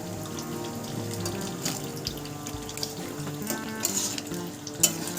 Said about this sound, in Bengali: এবার আমি এর মধ্যে দিয়ে দেবো ভেজে রাখা পনিরটা।